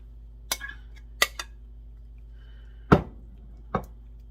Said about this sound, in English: I'm just going to go ahead and put this in this travel pan